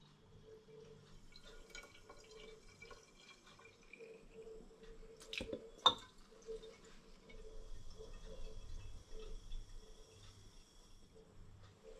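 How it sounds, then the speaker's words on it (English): IRN-BRU hard cider, a 7.9% turbo cider primed with sugar, running quickly into a 750ml bottle: a steady trickling fill with scattered drips and a sharp clink partway through, fairly faint and close. "So it's coming through nice and quickly, and I've nearly filled my first bottle up."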